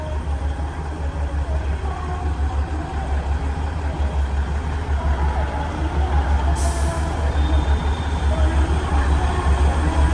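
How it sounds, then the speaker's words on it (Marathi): The Neral to Matheran toy train waits at Neral Junction, its engine idling in a steady, loud low rumble for the whole stretch, with a brief hiss of air near the end. "नेरळ जंक्शन आणि ही टॉय ट्रेन, आणि तुम्ही आवाज ऐकलाय तिचा"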